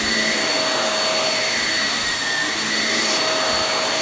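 A Shark Navigator NV22L upright vacuum cleaner runs steadily and loudly with a constant broadband roar and a thin high motor whine, close by, with no voices.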